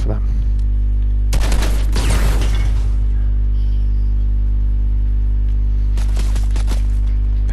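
Gunfire in a Fortnite squads match comes in two bursts, the first a longer rattling volley and the second a shorter string of shots, set over a steady low game hum.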